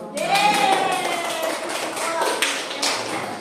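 A classroom of students claps together, a dense patter of hands that carries on steadily for a few seconds while voices chatter over it.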